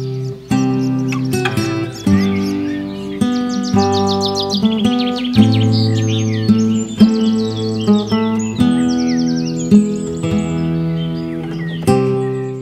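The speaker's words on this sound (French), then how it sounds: "les oiseaux disputent leur territoire où coulent leurs chants de séduction" Birds perched high in cedars, lime trees and oaks near a French château sing territorial and courtship songs, with bright, rapid chirps and trills ringing out loudly over sustained tonal music.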